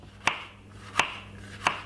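A knife chops spring onion on a board for potato salad, three crisp, evenly spaced thuds, close and clear with no talk.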